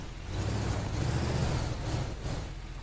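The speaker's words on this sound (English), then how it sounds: "Damn, the truck's fast." Truck engine in the video game Teardown, a steady low rumble of driving that rises briefly and then eases, heard alone at moderate volume.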